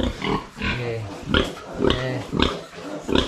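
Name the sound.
pigs on a farm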